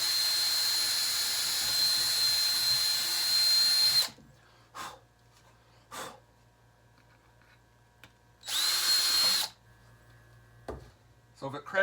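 A power drill whines loudly and steadily as it bores into an old cracked wooden drawer. After a pause it runs again in a short burst, and there are quiet clicks and handling sounds in between.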